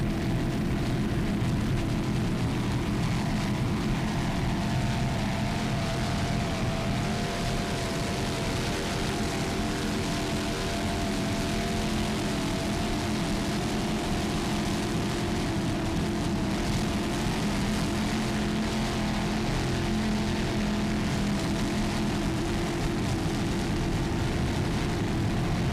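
A helicopter flies over an offshore powerboat race, a steady, loud engine and rotor drone blended with boat motors, continuous with no talk.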